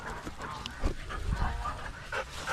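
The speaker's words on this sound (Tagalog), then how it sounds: "Ang laki na sa ating aso na si Bingo mga kaprobinsya." Bingo the dog pants close by in quick, breathy puffs, with a few louder huffs and snuffles scattered through.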